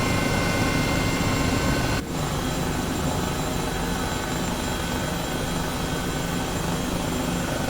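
An H135 helicopter in Microsoft Flight Simulator 2020 flies near Burbank, a continuous loud rotor and turbine drone with a brief dip partway through.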